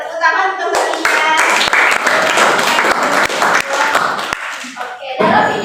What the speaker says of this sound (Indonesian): Tepuk tangan untuk Mbak Nisha